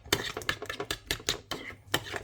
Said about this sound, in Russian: Перемешиваем и заправляем наш салат.